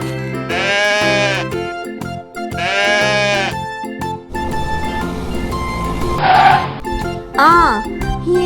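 Goat bleating in a farm-animal toy story: two long, loud wavering bleats, then a stretch of mixed noise and a couple of shorter, higher bleats near the end.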